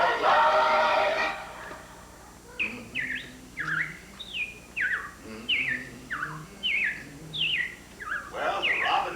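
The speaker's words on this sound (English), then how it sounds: "Well, the robins are back." Robins sing in a spring setting, a series of about ten short chirping phrases repeating at a steady pace and fairly close, following a brief burst of broadband noise at the start.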